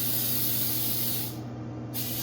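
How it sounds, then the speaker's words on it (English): Baking spray with flour hissing steadily into a cake pan for a pound cake, a close, continuous spray that thins briefly near the end before resuming. "And we just spray, just make sure it covers the whole thing"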